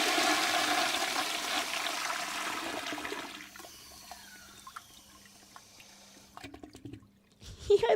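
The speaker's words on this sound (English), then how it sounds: "I'm such a poop. Flush me." A toilet flush sound effect plays from a soundboard as a loud rushing swirl of water that fades into trickling and dripping, with a brief voice near the end.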